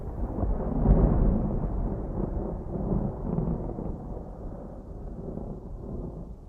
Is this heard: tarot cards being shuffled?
no